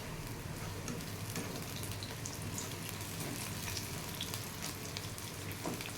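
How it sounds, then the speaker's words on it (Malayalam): Pieces of chicken 65 deep frying in coconut oil, a dense continuous crackling sizzle like light rain, steady and fairly quiet throughout, with no voices. "ഒരു സൈഡ് ഒന്ന് ഫ്രൈ ആയി കഴിയുമ്പോൾ നമുക്കത് തിരിച്ച് ഇട്ട് കൊടുക്കാമേ."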